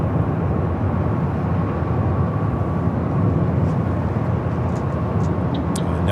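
A military Doomsday Plane flying as Titan 29 departs LAX, its engines a loud, steady broadband roar that fills the whole stretch without a break.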